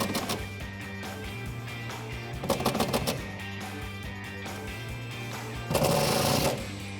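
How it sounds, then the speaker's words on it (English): A bolt on an aluminum retractable tonneau cover for a 2016-2021 Toyota Tacoma is tightened with a 5mm Allen socket on a power tool, giving short loud rattling bursts of rapid impacts between stretches of steady mechanical hum. "we're going to go ahead and tighten up the bolt up top here"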